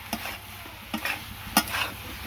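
Vegetable charchari being stirred and fried in a pan, with a few distinct scraping stirs spaced about half a second apart over a faint, steady sizzle, close and fairly quiet.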